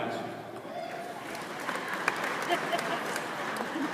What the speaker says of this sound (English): Clap, guys.